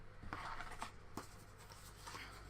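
Paper craft supplies being shuffled by hand, a few quick rustles and flicks of cards and paper up close, with no talking.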